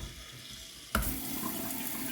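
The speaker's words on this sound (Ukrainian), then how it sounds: "а тепер наливаю воду" Tap water starting to pour into a jar while pickling cucumbers, a sudden onset followed by a steady broadband splashing rush with no voices.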